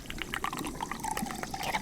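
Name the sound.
boiling water being poured manually to start a machine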